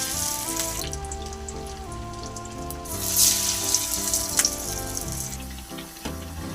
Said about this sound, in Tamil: இப்போ எண்ணெயில் போட்டுக்கலாம்.